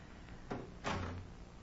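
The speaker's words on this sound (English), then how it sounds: "and shut the doors behind us." Doors being shut as a sound effect in a 1943 radio drama: two soft thuds about a third of a second apart, the second fuller and lingering briefly, fairly close with no voices over them.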